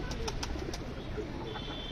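Soft pigeon coos sit low under a steady murmur of background noise, with faint rhythmic tapping and a brief high tone near the end.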